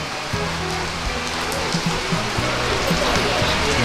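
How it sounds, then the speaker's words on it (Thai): Rain falls steadily in a northern Thai village setting, a continuous close wash of drops with faint voices murmuring underneath. "ตอนนี้ฝนตกฝนตก"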